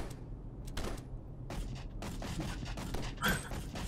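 Gunfire in the video game Rocketbirds 2: a dense, continuous run of sharp bursts and clatter with one louder crack near the end.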